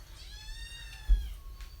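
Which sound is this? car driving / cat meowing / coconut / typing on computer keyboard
cat meowing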